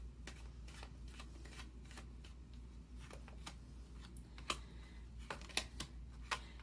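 Tarot cards shuffled and drawn for a reading, giving soft repeated riffling and sharp card snaps over a steady low hum, with a few crisper slaps near the end.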